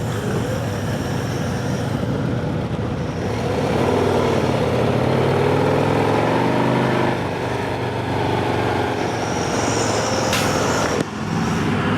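A 2025 Harley-Davidson Road Glide ST CVO rides along with a steady, quiet exhaust, engine note rising and easing with throttle under heavy wind rush, with a sharp high whine late on.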